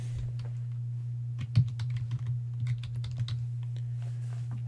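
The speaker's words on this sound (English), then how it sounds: "I'm going to type in a new label." Keystrokes on a computer keyboard typing a new label in Dwarf Fortress, a quick irregular run of close, crisp clicks over a steady low hum.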